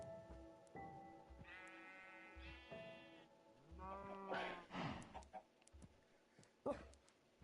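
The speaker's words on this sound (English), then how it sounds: "we also have some sheep" Several sheep bleat in Minecraft, blocky game creatures giving repeated short and drawn-out wavering cries, some overlapping, alongside chicken clucks and soft game noises.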